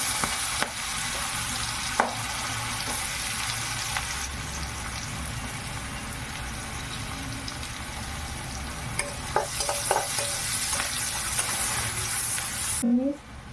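Whole spices—bay leaf, cardamom, cinnamon and cloves—with onion frying in a pan for butter paneer, a steady close sizzle with occasional stirring scrapes and clinks throughout.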